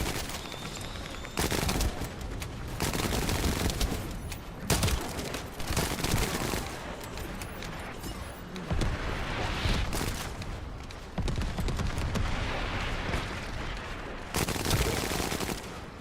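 Weapon effects in The First Descendant crackle and pop like fireworks, forming a loud, almost continuous barrage of rapid gunfire and booming explosions with only brief gaps.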